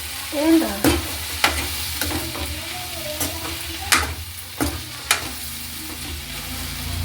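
A spoon scrapes and knocks against a pan in irregular strokes while okra curry with chili powder sizzles steadily underneath, close and fairly loud.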